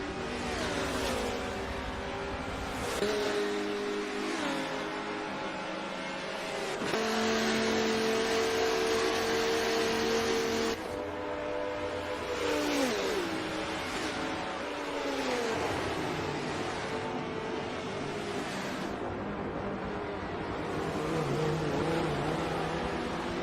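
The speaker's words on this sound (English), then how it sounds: "And we've got an orange McLaren coming into the picture, that being BA Giggity for 3G Motorsports." Race car engines roar in a sim racing game during an IMSA-style endurance event, with an orange McLaren among the field, giving loud, sustained revving that climbs and drops through repeated gear shifts.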